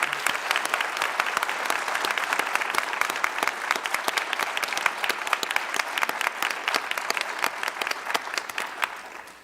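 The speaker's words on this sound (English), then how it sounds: "Let's give these graduates one more round of applause." An auditorium crowd at a master's hooding ceremony applauds graduates, a dense, sustained roar of clapping that holds steady for several seconds before easing slightly at the end.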